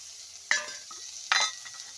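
Chopped onion, shaved garlic and green chili dropped into hot mustard oil in a pan, giving two loud bursts of sizzling and spitting that settle into a steady, softer fry between them.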